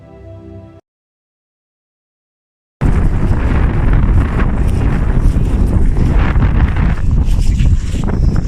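Strong wind roars across the Santorini caldera, buffeting the microphone in a loud, continuous rush that cuts in abruptly after a brief stretch of silence.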